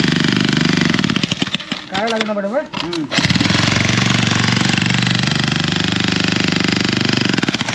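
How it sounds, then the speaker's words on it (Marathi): A ground-digging machine for making holes pounds away in loud, rapid, continuous bursts in a village, stopping briefly while a person speaks, then hammering on again close by. "जे खड्डे मारायचे त्यासाठी मशीन आणले"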